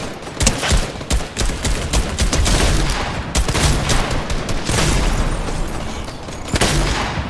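Sustained machine gun fire from a purple-rarity weapon in Fortnite, loud and dense bursts of rapid shots running almost without pause.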